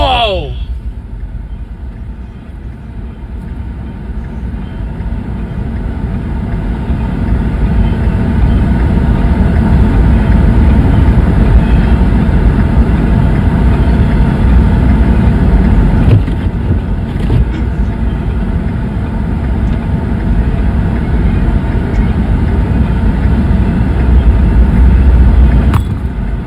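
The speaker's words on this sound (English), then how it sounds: "I don't know how long this train's gonna last" A passing train heard from outside as a long, loud, steady rumble and roar that swells and holds for the whole stretch, close by and dominant, with people talking faintly over it.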